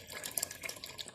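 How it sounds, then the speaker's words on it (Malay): Tap water runs into plastic hydroponic containers, giving a faint, steady trickle and splash with small bubbling peaks throughout. "Kita penuhkan dulu air ke dalamnya, setiap 3 bekas"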